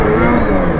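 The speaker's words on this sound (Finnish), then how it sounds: "Suzuki moottori on terha." Polaris snowmobile with a Suzuki engine revving up close, a loud, steady, gritty mid-range engine drone over a brief moment.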